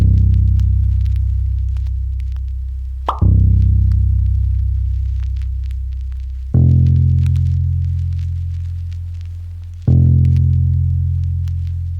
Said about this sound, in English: Next sound is this bass I found in a one-shot kit.